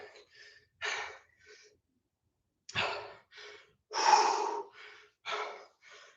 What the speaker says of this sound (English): catch your breath, breathe deep